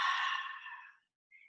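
A long, airy exhale during a yoga breathing practice streams out close to the microphone, starting strong and fading over about a second, followed by silence and a brief soft breath.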